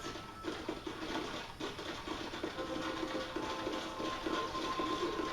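Train station ambience in Red Dead Redemption: a steady low rumble and hiss of rail yard activity with faint clanks, continuous and moderately loud, no talk.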